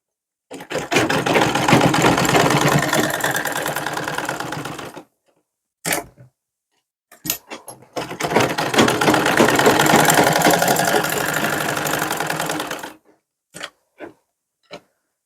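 A sewing machine stitches suit fabric together with buckram in two long, steady, loud runs of rapid stitching, separated by brief pauses and a few short clicks of handling.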